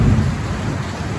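A sudden afternoon thunderstorm after a hot 40-degree day: a loud, continuous low rumble of thunder rolls over steady rain, with no voices.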